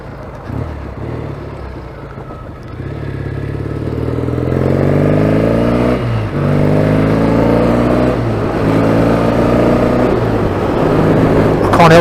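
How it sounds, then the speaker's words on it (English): A Triumph T140 E motorcycle fitted with a balance pipe mod, ridden hard, its twin exhausts loud and close, rising and falling in pitch as it revs up through the gears with brief dips between shifts. "There's the sound of those exhausts. Killer sound."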